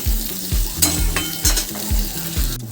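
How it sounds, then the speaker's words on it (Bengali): Bitter gourd frying in oil in a pan over medium heat, a continuous close sizzle with rhythmic scraping stirs about every half second. "দেখো বন্ধুরা আমার উচ্ছেটা মোটামুটি ভাজা হয়ে এসছে, আর একটু ভাজবো"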